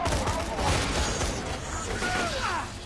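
Gunfire in the Borderlands 2 video game, rapid bursts of shots and mechanical clatter mixed with sweeping whooshing effects, dense and loud throughout, with a voice talking over part of it.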